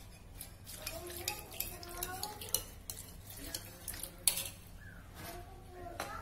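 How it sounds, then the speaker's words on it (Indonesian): Water poured into a frying pan of petis on an unlit stove, with clattering utensils and scraping stirs over a soft splashing, close up. "Aku tambahin air nih."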